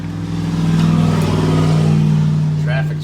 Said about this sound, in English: Traffic's crazy today.